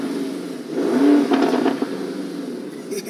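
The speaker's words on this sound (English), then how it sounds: "I'm gonna be in Corsa mode 24/7, cause that's when you can hear the exhaust." A $250,000 sports car in Corsa mode revs hard once, its exhaust swelling into a loud, raspy roar that peaks, then drops to a burbling idle with a few crackles.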